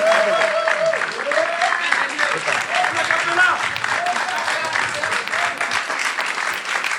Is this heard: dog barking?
no